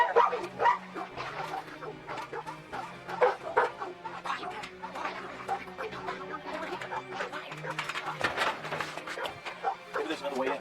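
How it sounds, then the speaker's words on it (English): Several dogs barking, yipping and whimpering behind a house in a 1986 horror film scene, continuous and mid-distance, with a voice talking over the commotion. "I'll get these dogs quieted down."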